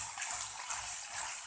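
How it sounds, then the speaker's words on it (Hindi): Marinated chicken pieces for shawarma sizzle and hiss steadily in a pan as their released juices cook off, a dense, even crackle with no voices. "चिकन को अब हम 10 से 15 मिनट के लिए फ्राई कर लेंगे।"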